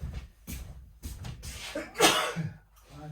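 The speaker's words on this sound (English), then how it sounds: "I'm going to sneeze again." One person sneezes sharply and loudly, preceded by a few breathy, shuffling sounds and followed by a softer breath.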